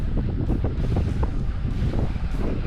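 Gusty wind buffets the microphone outdoors at a seaside triathlon in Victor Harbor, a loud, continuous low rumble with uneven surges and no speech.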